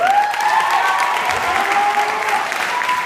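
An audience at a high school senior band recognition applauds a student guitarist, a steady wash of clapping throughout with a faint sustained tone running beneath it.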